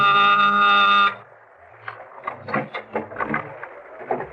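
A harsh electric apartment door buzzer sounds loudly for about a second, then cuts off, followed by quiet shuffling and soft tapping sounds.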